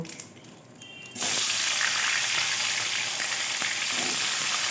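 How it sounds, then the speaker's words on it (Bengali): Paneer pieces drop into hot oil that was just used for frying potatoes and pointed gourd, and a loud, steady sizzle bursts up after a quiet start and holds close and continuous. "তুলে নিয়ে ওই তেলেই আমি পনিরগুলো ভেজে নেব"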